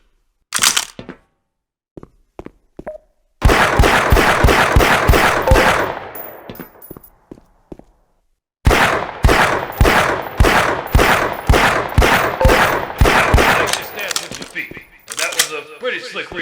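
Pistol fire at targets in the Black Mesa hazard course: a few scattered shots, then two long runs of rapid, loud, evenly spaced shots separated by a quiet pause, with faint speech near the end.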